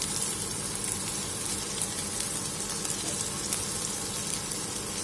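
Chopped onion and capsicum sautéing in a pan while preparing chicken dhaniya stuffing for momos, a steady close sizzle with faint crackling that holds an even level throughout and no talk.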